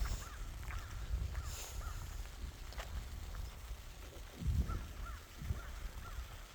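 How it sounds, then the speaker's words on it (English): Several crows caw at a distance, scattered harsh calls over windy outdoor rumble and a few muffled thumps. "I got the crows out here eating my corn and seed though."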